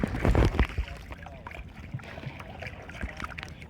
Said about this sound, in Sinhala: රත්ගම කලපුවේ ඔරු පැද්දා.